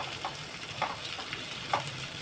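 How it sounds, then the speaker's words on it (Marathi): Onion and green chili sauté in oil for paneer bhurji, a soft even sizzle with occasional light stirring scrapes and spatters; no voices. "कांदा मिरची तेलामध्ये परतून घ्यायचं"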